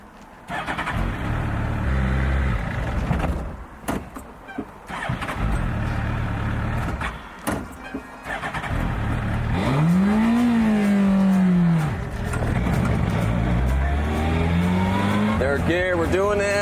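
A Back to the Future themed motorcycle engine starts, then revs in rising and falling sweeps that build loud and close, broken by short gaps and shifts, with a person talking over it at times.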